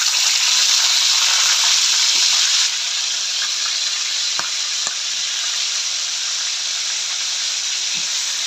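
A marinated pork chop fries in a pan with a bright, continuous sizzle, loud at first and then settling slightly quieter, broken by occasional small pops and clicks.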